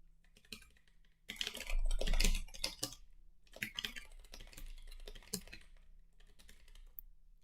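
Rapid clicking of computer keyboard typing during a programming session, coming in bursts of irregular keystrokes at close range, with a louder flurry near the start and steadier tapping afterward, no talk.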